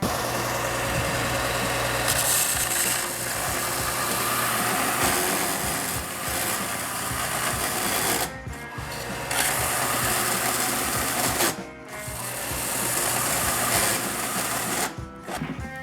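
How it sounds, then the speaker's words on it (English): Harbor Freight Bauer belt and disc sander with square steel tubing pressed flat onto the running belt: a loud, continuous grinding motor drone near the mic, dipping briefly in a few spots as the load changes. "I'm going to put this square tubing just flat on the belt right here and put a bunch of pressure down"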